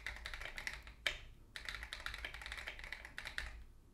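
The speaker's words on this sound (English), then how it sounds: "Sorry, my keyboard is loud." Clacky typing on a newly built mechanical keyboard, rapid bursts of keystrokes with brief pauses between, close and fairly quiet.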